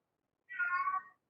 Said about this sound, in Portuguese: meu gato está no cio aqui